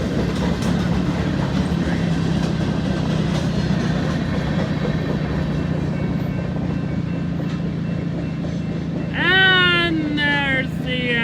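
A freight train of scrap-metal gondolas and tank cars rolling past, a steady loud rumble of wheels and cars that fills the whole stretch, with high squealing wheel or flange screeches near the end.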